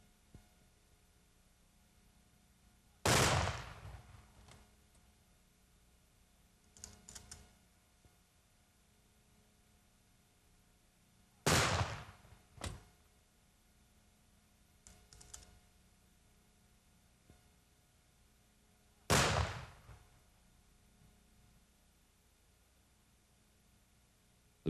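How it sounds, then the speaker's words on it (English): A funeral firing party fires three rifle volleys, each a sharp, loud crack standing alone against near silence, spaced roughly eight seconds apart, with faint rifle handling clicks between shots. "The funeral director then alerts the family to the firing of the volleys, which will now be executed by the firing party."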